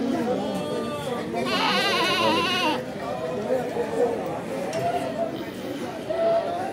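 Goats bleat at a busy Hyderabad goat market selling animals for Qurbani, several wavering calls close by, one long and loud, over a background of crowd chatter and voices talking.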